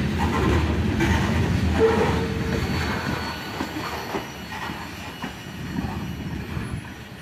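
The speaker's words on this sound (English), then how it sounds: "here comes the tail end finally as this train crawls into Trenton siding" A CSX freight train crawls slowly into a siding at Trenton, its rail cars rumbling and clanking steadily with a brief wheel squeal, close and continuous throughout with no one talking.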